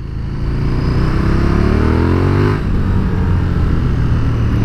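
A KTM 1290 Super Duke R twin-cylinder motorcycle with a brand-new exhaust being ridden, its engine droning loud and close with a rising rev partway through and steady wind rush.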